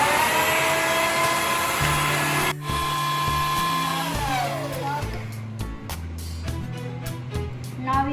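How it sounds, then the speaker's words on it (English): An electric beater whirs steadily while mixing waffle cone batter, its motor pitch shifting up and down as it works, a continuous near drone with brief dips throughout. "Now we mix it well with the help of electric beater."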